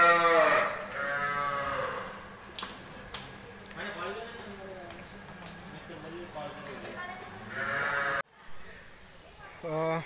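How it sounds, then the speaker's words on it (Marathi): Small calves and cattle at the Gagangiri Maharaj math in Khopoli bleat and moo repeatedly at fairly close range, several calls overlapping in a barnyard setting, with a brief dropout before a final call. "त्या ठिकाणी मित्र छोटी छोटी वासरं आहे ना"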